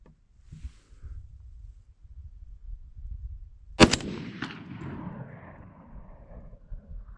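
One sharp gunshot from an LR308 A5 rifle firing 50-year-old surplus ammunition rings out midway, with a short echoing tail after quiet low rumble, no talk.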